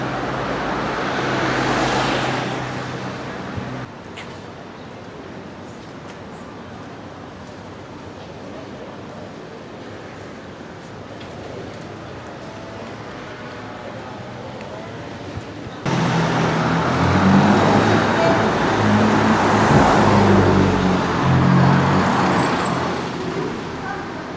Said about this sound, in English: The traffic is pretty quiet, probably because it's a weekend.